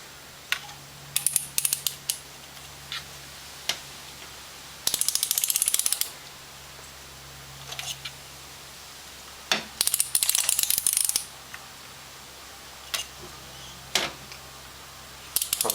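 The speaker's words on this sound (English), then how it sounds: "So I've got my torque wrench here. Make sure it's going the right way. And let's torque this." Torque wrench ratcheting as it tightens a spark plug on a 2001 Honda Civic: short bursts of rapid metallic clicking, several separate runs with pauses between, close and clear with no talking.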